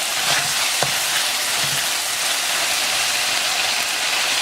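Beef stir-fried in a hot pan sizzles in a loud, steady, dense hiss throughout, with a couple of faint clicks of a utensil against the pan.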